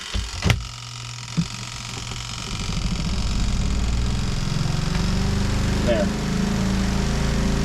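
A portable washing machine running off an inverter while boondocking churns a heavy sweatshirt, its motor hum rising into a steady, loud, rhythmic agitating drone after a couple of knocks; a voice speaks briefly.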